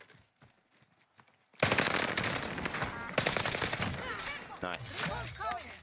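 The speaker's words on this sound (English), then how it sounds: "this new LMG is fucking low-key so good, dude" A light machine gun firing in Warzone: after a quiet start, loud sustained automatic bursts of rapid gunfire ring out, with further shots trailing off among other game sounds.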